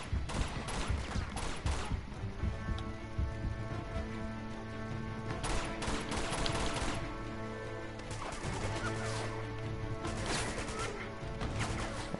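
Gunfire in Uncharted 2, a sustained firefight of loud, close shots and bursts with crashing impacts over tonal game music, continuing steadily throughout without talk.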